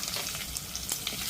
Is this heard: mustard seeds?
yes